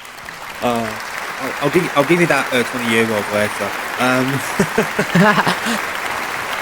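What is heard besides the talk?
round of applause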